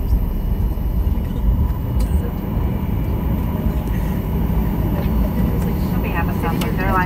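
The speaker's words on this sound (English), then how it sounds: "Flight landed. Goes through the runway." Southwest Airlines jet rolling down the runway after landing at Las Vegas airport, a steady loud low engine and tire rumble filling the cabin throughout.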